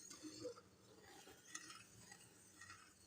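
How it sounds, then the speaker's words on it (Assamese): Faint scraping and soft clinks of a spoon stirring boiling milk in a pot, with light bubbling underneath, very quiet throughout. "এইখিনি হিলাই আছোঁ মই এতিয়া"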